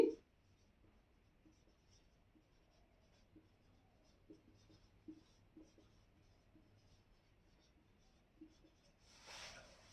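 A pen scratches across paper in faint, irregular strokes and taps during an English grammar lesson, quiet and close, with a soft rustle near the end.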